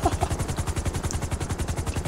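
A helicopter in GTA V thumps with a fast, even rotor chop that repeats steadily at close range, with no talking over it.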